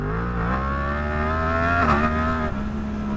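Superbike engine droning steadily at high revs during a traction control demonstration, loud and close with a slight pitch shift midway and no talking.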